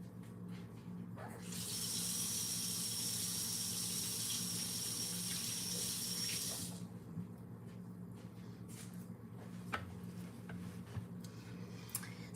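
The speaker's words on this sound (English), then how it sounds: "Let me rinse off my fingers real quick." Water gushes from a kitchen tap as fingers are rinsed during home baking, a steady rush lasting about five seconds before shutting off, leaving a low room hum and a few small clicks.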